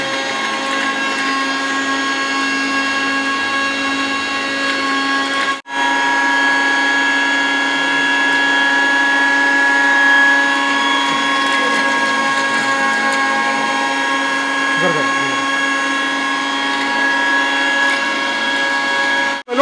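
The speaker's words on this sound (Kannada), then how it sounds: "ಇದು ಸ್ಟಾರ್ಟ್ ಮಾಡಿ. ಮಿಕ್ಸಿ ಆನ್ ಮಾಡಿ." A home flour mill grinds urad dal with a loud, steady motor whine that runs continuously, dips to a brief stop near the middle, then resumes until the end, with no voices.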